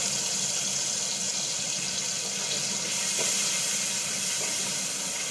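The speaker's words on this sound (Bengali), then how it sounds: "পটলে একটু জল বেরোয়, ওই জন্য জলটা ছিটাচ্ছে।" Pointed gourd frying in hot oil in a home kitchen, moisture from the vegetable making a steady hissing sizzle with faint crackles, close and continuous throughout.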